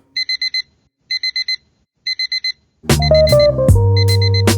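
An alarm clock beeps in repeated groups of four quick tones, then music with bass and melody bursts in underneath while the beeping continues.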